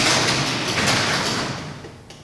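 A garage door rolls shut with a steady broadband rumble and rattle that stays loud, then eases off near the end, with no voices over it.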